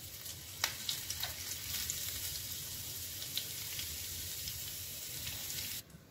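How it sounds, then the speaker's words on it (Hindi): Chopped curry leaves hitting hot cumin tempering oil with the gas switched off: a loud, dense, close sizzle that holds steady for several seconds, then cuts off abruptly at the end. "इसी तड़के में हम ये मीठा नीम की पत्तियां डाल देते हैं"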